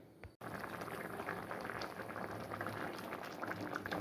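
A pot of tamarind stew with vegetables simmers at a steady low bubble, a soft continuous burbling close by after a brief knock at the start, with no talking.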